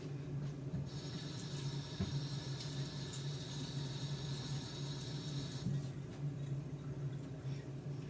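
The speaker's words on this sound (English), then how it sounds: "it's very important to rinse your celery as well" Tap water runs over celery being rinsed at a kitchen sink, a soft, even stream lasting a few seconds before cutting off, faint against quiet room noise.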